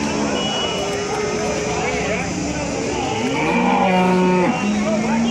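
A Punganur cow moos loudly and close by in long, drawn-out calls, with people talking in the background at a cattle market.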